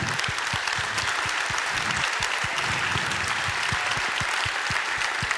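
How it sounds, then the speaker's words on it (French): Steady applause from an audience at a French business awards ceremony, dense continuous clapping with rhythmic low thumps, alone without talk. "On peut les applaudir."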